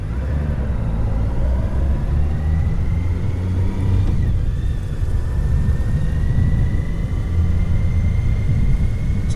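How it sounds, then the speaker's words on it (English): A car approaching on a country road, its engine rising into a loud, close rumble with a gradually climbing whine that holds steady as it nears. "And the car's coming."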